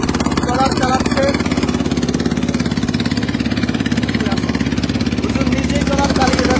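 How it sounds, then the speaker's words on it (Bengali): A trawler boat's diesel engine thuds in a steady, loud, rapid rhythm as the boat is driven along a river near Barishal, while someone talks over the continuous chugging. "আপনারা দেখছেন হুজুর নিজেই ট্রলার চালাচ্ছেন"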